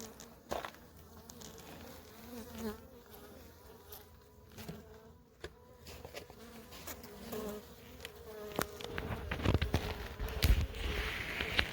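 Bees buzz around a beehive at close range, a continuous drone with fluctuating pitch as insects pass nearby. Scattered clicks and handling knocks mix in, growing louder toward the end.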